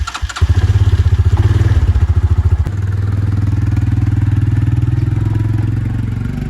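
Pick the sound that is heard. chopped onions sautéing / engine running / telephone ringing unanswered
engine running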